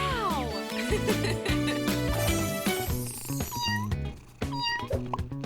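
A cat in a cartoon meows repeatedly in a string of short, bright, rising and falling calls, close and fairly loud, with musical chimes and jingles mixed among them.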